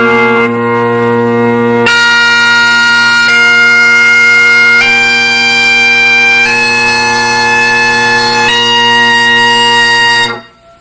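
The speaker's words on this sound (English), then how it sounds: "That's the sound of a sharp high G." A bagpipe plays loud, piercing, sustained notes over a steady drone, the sharp high G on the chanter sounding shrill and out of tune as the pitch shifts in a few steps before cutting off abruptly.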